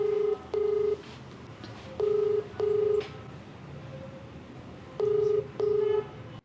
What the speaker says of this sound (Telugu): ఒకసారి కాల్ చేస్తాను.